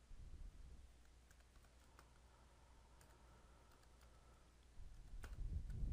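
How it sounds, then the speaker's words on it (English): Quiet tapping on a computer keyboard while a password is entered, scattered light clicks over a soft low hum, with a louder rumble building near the end. "So I'm going to go ahead and enter the password,"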